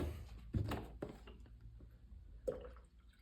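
Water pours into the tank of a WetAir MH-204B ultrasonic humidifier, with a few close, brief splashing and trickling bursts separated by quiet gaps.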